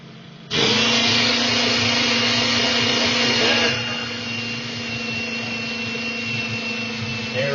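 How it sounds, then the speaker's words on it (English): A 1979 Corvette slot car running on a dyno gives a steady, loud electric motor whine that starts abruptly and holds with a slight drop in pitch partway, heard alone. "let's put it on the dyno, and we'll take her for a little ride on the dyno, see how she goes"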